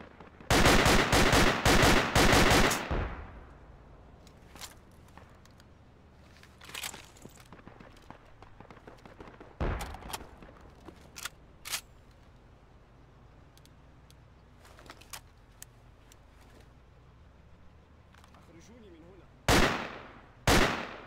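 Loud bursts of gunfire from a bipod-deployed infantry weapon in the Project Reality game, a rapid volley at the start, then scattered sharp single shots and another burst near the end.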